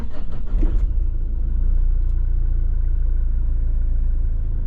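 A Mitsubishi Pajero 3.2 engine idles close by with a steady low rumble and mount vibration, briefly opening with a few rough knocks before settling into an even drone.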